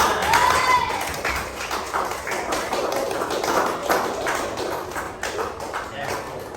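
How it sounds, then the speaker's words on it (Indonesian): Children in a classroom clapping together in a steady burst of quick hand claps that lasts several seconds, fairly close and loud. "beri tepuk tangan untuk kita semuanya"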